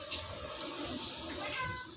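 An Indian ringneck parrot imitates a cat's meow, giving a faint, drawn-out, mewing call over a quiet background.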